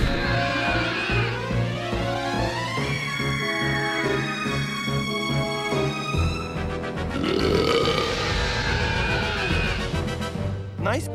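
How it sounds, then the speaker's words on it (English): A long, loud cartoon belch effect from an animated series rolls on continuously with warbling, shifting tones and bubbly rasp, dominating the scene with no talk over it. "Nice belching."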